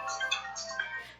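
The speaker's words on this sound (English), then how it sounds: "I think that phone ringing means that we're out of time." A phone alarm ringtone with a chiptune-style melody reminiscent of a retro game, short bright electronic notes playing fairly faintly in a room.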